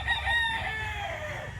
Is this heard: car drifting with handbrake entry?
no